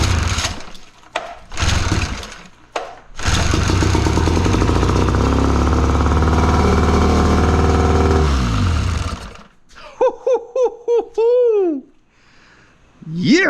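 A 1958 Evinrude Fast Twin 18 hp outboard motor, revived after long abandonment, starts after brief pulls and runs loud and steady with a rough, buzzing drone, then cuts off; excited voices follow.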